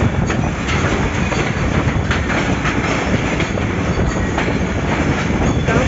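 The Zakaria Express passenger train rolls past on the rails, loud and close, with a dense, continuous rumble and repeated clickety-clack wheel beats throughout. No voices are heard.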